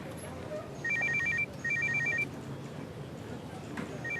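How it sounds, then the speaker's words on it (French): A mobile phone rings indoors with two bursts of electronic trilling beeps and a third starting at the end, fairly close, over a quiet room with faint background murmur. "Bah, vous répondez pas à votre téléphone?"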